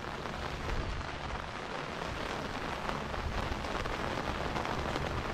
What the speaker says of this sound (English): you can see the rain is definitely coming down.